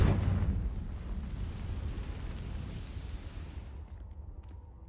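A Confringo blasting-curse explosion from a Harry Potter video game hits with a sharp, heavy burst right at the start, followed by a long, low rumble that gradually dies away.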